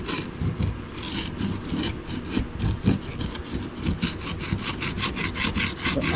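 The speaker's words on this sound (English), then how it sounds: "You can't really get past all this dirt with this dull chisel." A dull chisel scrapes across dirty, weathered wood in quick, rough strokes that rasp close and loud in a steady back-and-forth rhythm, with no talking.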